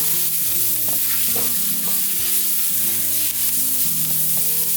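Onion with cumin, turmeric and mixed spices frying in a pan, a steady close sizzle with scraping stirring strokes and tonal kitchen hum running throughout.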